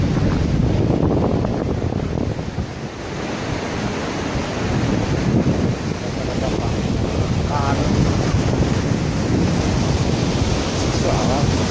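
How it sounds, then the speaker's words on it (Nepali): Cold wind gusts strongly at Namche Bazar in the Himalayas, a loud, constant roar buffeting the microphone throughout, with faint water sounds beneath. "चिसो हावा"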